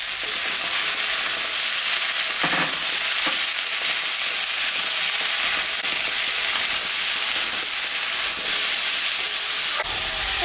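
Jackfruit frying in a pan, a dense, loud, steady hiss and crackle of hot oil running throughout, with a couple of brief stirring knocks.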